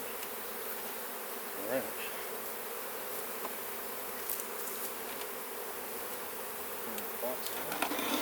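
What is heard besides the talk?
honey bees buzzing during a hive honey harvest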